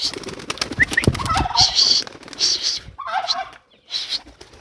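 Pigeons in a backyard loft coo and flutter close by, several throaty calls and wing rustles in bursts, with no talk over them.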